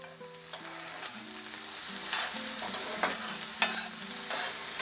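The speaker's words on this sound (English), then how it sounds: "I'm going to let them saute for just about a minute on their own." Onions with a pinch of salt sautéing in a pan, a steady close sizzle with occasional stirring scrapes and faint tonal hum underneath.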